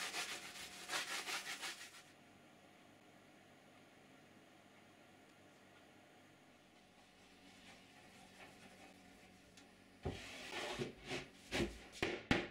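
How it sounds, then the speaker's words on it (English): A cloth wipes a melamine panel on an MFT-style assembly table, giving brisk rubbing swishes in a short burst at the start and again near the end, with a quiet pause between. "And cleaning the melamine."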